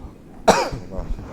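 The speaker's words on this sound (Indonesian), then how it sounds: "Batuk Pak, saya tiba-tiba." A single sudden cough bursts out close and loud, followed by a faint raspy trailing breath in a quiet indoor space.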